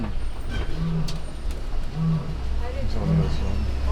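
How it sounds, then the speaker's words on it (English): Deep, rumbling lion roars on Disney's Animal Kingdom Kilimanjaro Safari rise and fall several times over a few seconds, with a person talking over them throughout. "I hear the lions roaring"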